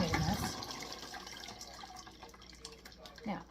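Apple cider vinegar being poured through a colander, a splashing, trickling liquid stream that fades to softer dripping, fairly quiet and close.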